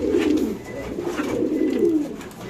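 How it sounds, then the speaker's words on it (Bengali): Domestic pigeons kept for sale coo close by in soft, throaty, repeated rolling calls, with a low murmur of the loft around them. "তারপর দেখেন মাশাআল্লাহ কবুতরটা"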